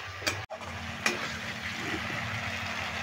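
A spice paste loosened with a little water fries in a pan for a vegetarian pointed gourd dish, giving a steady close sizzle broken by a couple of sharp spoon scrapes and knocks near the start.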